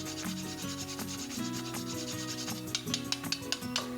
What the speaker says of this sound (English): Stir all of these beautiful spices and leavening agents together.